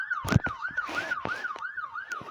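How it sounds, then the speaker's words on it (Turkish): A video game police siren wails, rising and falling steadily in repeated cycles, loud and close, with a few sharp clicks and thumps over it. "Siren sesleri geliyor."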